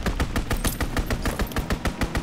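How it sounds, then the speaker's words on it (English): Rapid machine gun strafing fire in a video game, a steady rhythm of loud, close bursts repeating about every fifth of a second throughout with no talk. "Strafing the target."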